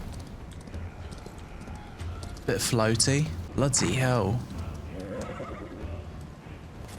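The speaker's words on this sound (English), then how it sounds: "How's the horse riding feel?" In the video game Chrono Odyssey, a mounted horse gives two loud, drawn-out neighs in the middle of the clip over soft hoofbeats, while someone speaks briefly.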